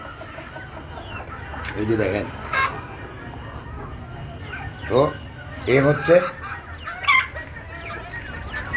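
Native desi chickens cluck in short bursts in a farmyard, mixed with the odd rooster-like call, while someone talks over a low steady background.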